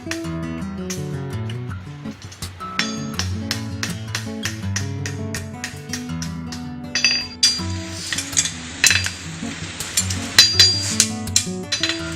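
Repeated hammer blows ring out on a horseshoe being leveled, bright and clangy, in an uneven series that grows sharper and louder toward the end.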